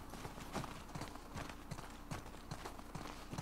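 Horse hooves clip-clop in The Last of Us Part II, a steady run of evenly spaced thuds at moderate loudness over a constant ambient bed, with no voices.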